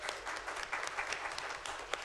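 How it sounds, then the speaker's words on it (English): An audience at a school board meeting applauds a girls' team headed to the state meet, a steady wash of dense clapping throughout, with no talk over it. "So let's clap it up for those ladies."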